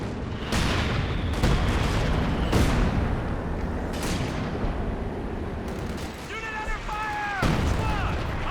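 An M7 Priest artillery barrage in a Company of Heroes 2 battle lands as a series of sharp impacts spaced a second or so apart, with a voice speaking briefly over the explosions and battle noise.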